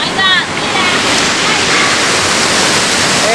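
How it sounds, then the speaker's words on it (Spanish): Steady, loud roar of a waterfall cascading near Canta, Peru, a dense continuous wash of falling water filling the whole clip. "Y esta cascada, pues, está más pulenta, por decirlo así."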